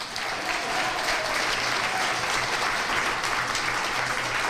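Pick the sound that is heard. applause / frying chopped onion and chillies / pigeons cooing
applause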